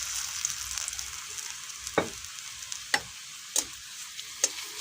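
Potato chips frying in hot oil give a steady hiss and crackle, broken by a few sharp, louder pops and clinks at intervals, close and clear with no voices.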